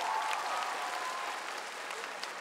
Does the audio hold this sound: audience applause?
yes